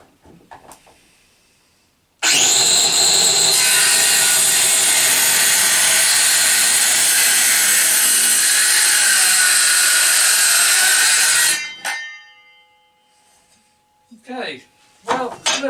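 A Lidl Parkside PHKSA 20-LI A2 cordless circular saw cuts through the end of a piece of wood, a loud steady whine lasting about nine seconds before spinning down, followed by brief clatter and someone speaking.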